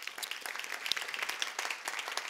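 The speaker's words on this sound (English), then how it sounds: "Can we have a quick round of applause for our judges?" Applause from a summit audience honoring competition judges, a steady, fairly quiet patter of many hands clapping at once with no talk over it.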